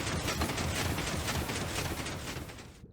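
A Minecraft flying TNT bomber machine triggered while mining down toward bedrock, giving a dense, continuous rumble of blasts and mechanical clatter that stays loud throughout, then cuts off abruptly near the end.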